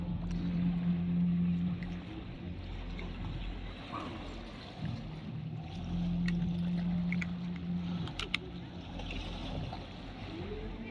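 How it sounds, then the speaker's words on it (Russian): A small boat pulls up near the shore, its motor droning low and steady under a lively outdoor hubbub of voices, water and wind, with a few sharp knocks near the end. "Вот ребята на лодке подъехали."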